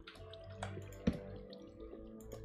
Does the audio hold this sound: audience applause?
no